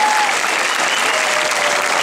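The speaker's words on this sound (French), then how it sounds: "on peut l'applaudir." Audience applause at a Paris event honoring the French voice cast of The Lion King, a steady, dense wash of clapping that fills the whole short stretch at a loud, even level with no speech.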